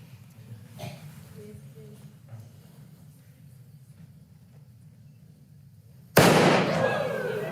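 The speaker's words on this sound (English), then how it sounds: "When the fuse burns down and the cannon fires, I want you to look carefully what happens to the cannon." A small model cannon fires once its fuse burns down, a sudden sharp bang after several seconds of quiet low rumble and faint sounds, with the blast's noise lingering briefly afterward.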